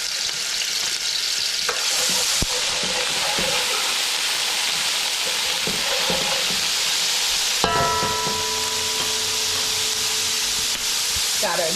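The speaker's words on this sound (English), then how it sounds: "we're gonna start off by sauteing with some green seasoning" Green seasoning with tomato, scallions, celery and onions sautéing in a pan for an eggplant and smoked fish dish, a steady loud sizzle with occasional stirring scrapes and clinks throughout.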